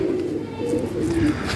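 Pigeons coo softly but steadily at close range, a low throaty warble repeating in short phrases on a rooftop loft in South Asia, with faint background noise and no clear speech.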